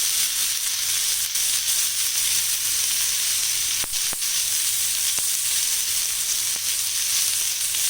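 Raw banana pieces fry with turmeric and salt in hot oil, giving a steady, close sizzle with a few sharp clicks and pops throughout.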